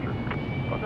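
A Hawker Beechcraft 400XP business jet takes off at Dallas Love Field, a steady, loud, broadband engine roar filling the brief moment, with a faint voice in the mix.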